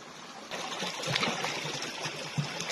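A violet stone beside a bathtub is rinsed under running water, making a steady splashing, trickling wash with a few louder spatters over the continuous flow.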